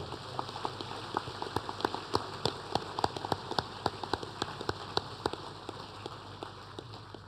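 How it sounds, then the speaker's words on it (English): Applause at a senior school assembly welcoming Year 9 students, a steady wash of many hands clapping through a hall, sharp claps popping out of the dense patter, fairly distant and continuous throughout. "We give our Year 9s a big round of applause and welcome"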